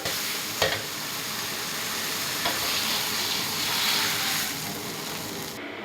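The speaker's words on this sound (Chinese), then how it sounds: "把那个番茄汁儿先炒出来。" Tomato juice stir-fries in a hot pan, with a steady sizzle and hiss and occasional scrapes of the spatula stirring.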